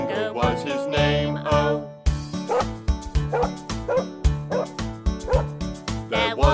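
A cartoon-style dog barks in a children's nursery rhyme about a farmer's dog, giving loud, rhythmic, evenly spaced woofs against a bouncy musical backing.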